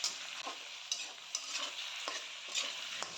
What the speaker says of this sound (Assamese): বিলাহীখিনি এতিয়া বঢ়িয়াকৈ ভাজিম